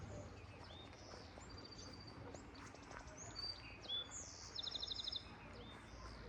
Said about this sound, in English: Hey, birds, can you bring us to Horace?